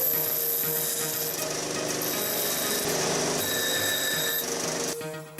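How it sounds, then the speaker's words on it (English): Steady abrasive rubbing as the freshly cut end of a metal pin is sanded down, a continuous close scraping texture lasting several seconds before stopping abruptly near the end, with no speech. "I will sand down the places of the cut."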